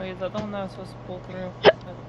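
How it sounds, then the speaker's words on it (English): A single sharp hiccup bursts out near the end of a short stretch of casual indoor talk, loud and close against the speaking voice. "That was a hiccup."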